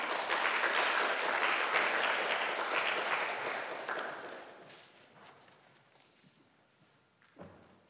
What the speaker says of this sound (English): If you would give a round of applause